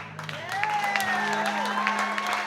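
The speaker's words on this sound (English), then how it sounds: "Thank you for your hesitant applause." A comedy-show audience gives scattered, subdued applause, loose clapping spread across the room with a steady tonal hum beneath and faint vocal sounds over it.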